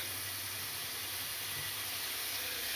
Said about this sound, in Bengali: এবার দিয়ে দিচ্ছি কাঁচা লঙ্কা পেস্ট।